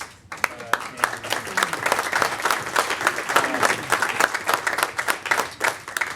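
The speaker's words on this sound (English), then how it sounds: "Give him a big round of applause." A crowd applauds at an Austin transportation panel event, with dense, steady clapping from many hands that sustains evenly throughout, moderately distant and unaccompanied by speech.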